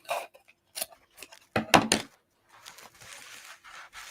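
Scissors snipping a string off the back of a burlap wreath decoration, a few short close crisp cuts and rustles, quiet and without talk.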